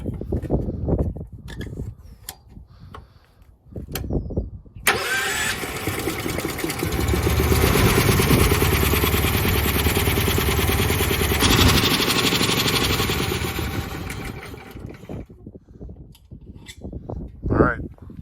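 A John Deere 8260R tractor engine starts abruptly after someone talks, then idles loud and steady while warming up, its drone slowly easing before speech returns near the end.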